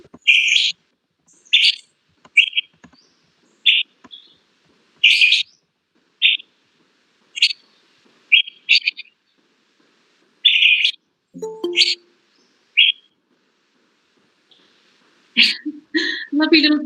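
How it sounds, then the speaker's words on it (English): An Asian fairy bluebird repeats bright single or double whistled notes in short, evenly spaced bursts over a quiet background, with a person coughing or clearing their throat briefly midway. "This is an Asian fairy bluebird. it has this very beautiful single or sometimes double note."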